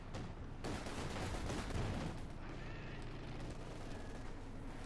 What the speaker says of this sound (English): Taking fire from Stugs and Ostwind.